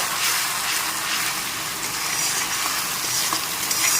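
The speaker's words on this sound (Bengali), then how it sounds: "মশলাটাকে ভালো করে কষিয়ে নিতে হবে" Onion paste with ginger-garlic paste frying in a hot wok, a steady broadband sizzle running the whole time with faint scraping as the spoon stirs it, no voices.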